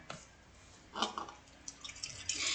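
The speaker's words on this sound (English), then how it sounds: "We're going to pour our apple juice in there." Apple juice pours into a carboy holding a cup of sugar, a quiet trickle that swells into brighter splashing and gurgling over a couple of seconds, close and alone.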